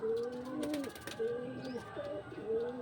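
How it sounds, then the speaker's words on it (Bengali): Soft cooing from loft pigeons, including a female bird, rises and falls in two or three drawn-out phrases, fairly close but quiet, over a low background hum. "এটা আমার লাস্ট পায়রা, এটাও মাদি পায়রা।"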